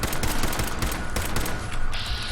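Loud, dense gunfire in the video game Fallout 4 rattles off in a steady burst of closely spaced shots with no pauses, alone in the mix.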